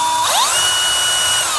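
A power drill whines steadily at high pitch after a brief rising spin-up, drilling a hole to mount motorized roller shades, loud and close, with no voices.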